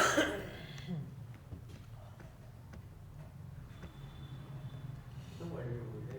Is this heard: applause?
no